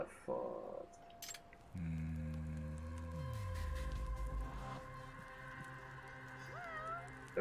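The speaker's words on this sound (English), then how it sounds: "There's a cat." A cat meowing in the video game Judgment, one long, clear, wavering meow sounding close, with game background tones and brief effects around it.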